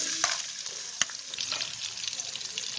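Onions added to oil with light-browned cumin seeds fry with a bright crackling sizzle, punctuated by a few sharp spoon clicks against the pan.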